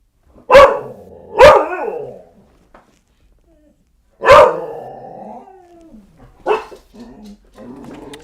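A dog barks loudly and close by, three sharp barks with pauses between them, followed by softer yips and whining sounds.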